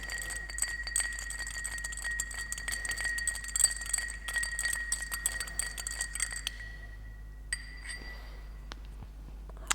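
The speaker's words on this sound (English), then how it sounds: "We're going to give this a quick stir with our mixing spoon" Mixing spoon stirring a Godfather cocktail in a glass, producing rapid, close, bright clinks of ice and metal against glass that stop after about six seconds, followed by a few scattered taps.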